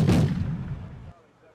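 Artillery fire in the video game Wargame: Red Dragon during a 10v10 muddy battle, one heavy booming shot with a rumbling tail that fades out over about a second.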